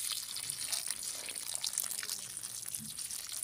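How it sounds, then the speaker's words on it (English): Water splashes and trickles as it is poured onto a potted plant grown from seed, with a continuous close gush and faint drips throughout. "I need to water it, look."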